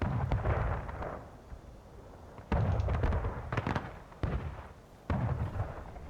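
An artillery battery firing shells: four deep booming reports spaced a second or two apart, each with a heavy rumbling tail, fairly distant and alone without voices.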